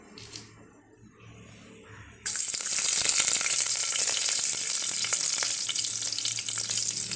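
Ginger and garlic hit hot oil for a vegetable kurma with a sudden loud sizzle that holds as a dense, crackling fry after a quiet start.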